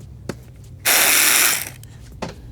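A ratchet with an 8mm socket turns a fairing bolt on a 2024 Kawasaki Ninja 500. There is a quick, loud burst of close clicking rasp lasting under a second, framed by light taps, with no talk.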